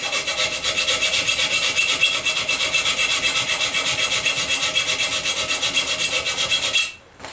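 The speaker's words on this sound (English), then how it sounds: "it's only filing, there's no mystery to it" Steady rasping strokes of a file across metal armour rivets, a continuous rhythmic scraping held close and loud for about seven seconds, then stopping abruptly at the end.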